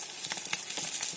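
Food fries in hot oil with a close, bright, steady sizzle and small popping bursts throughout, and no one talking.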